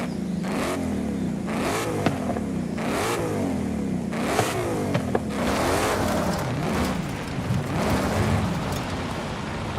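Stock car engine in Forza Horizon 5, revving in repeated surges as it accelerates and shifts through gears during free-roam driving, steady and fairly loud with a rushing road or wind hiss underneath.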